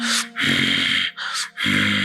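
A voice imitates the rasping throat sound of ujjayi pranayam breathing, like snoring. It gives several loud, close breath strokes in alternating long and short bursts, and there is no ordinary talk.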